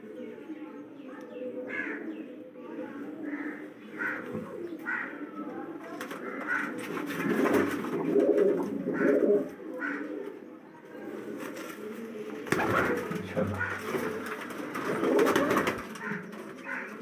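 Mixed-breed pigeons in a low flyer breeding loft coo repeatedly in soft, rolling phrases, with harsher caw-like calls and bursts of wing flaps and rustling clatter mixed in throughout.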